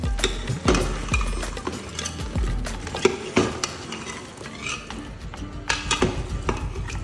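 Three small tomatoes being stirred into spices in a pan for a potato, pea and egg curry, with repeated scraping and clinking of a utensil against metal over a low sizzle, fairly close and steady.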